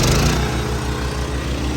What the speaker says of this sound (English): So we're going to start the spreader.